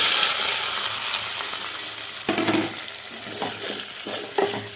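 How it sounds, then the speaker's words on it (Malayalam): Leftover fried chicken reheats in a pan with a loud, steady sizzle that softens over time, broken by a few clattering scrapes and stirring knocks close by. "ചിക്കൻ വറുത്തതാണ്, ഇന്നലെ വറുത്ത് വെച്ചിരുന്ന. അപ്പോൾ അതിനെ കൂടി ഒന്ന് ചൂടാക്കി എടുക്കണം."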